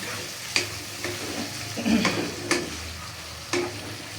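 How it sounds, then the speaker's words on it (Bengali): Food seasoned with salt is stirred in a frying pan: a low sizzle runs underneath while sharp spatula scrapes and knocks against the pan come at irregular intervals, about six strokes. "সামান্য একটু লবণ, দিয়ে ভালো করে নাড়াচাড়া করতে হবে"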